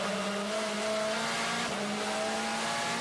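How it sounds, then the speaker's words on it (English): A touring race car at the Marrakesh WTCC street circuit brakes hard, its engine note holding as a steady, fairly faint hum while the tires lock up with a thin squeal. "So Ted locking up"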